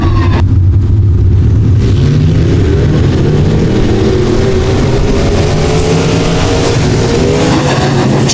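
USRA B Modified race cars roar through a heat race on a short oval, their engines a loud, continuous, layered drone with rising and falling revs as the pack passes close by.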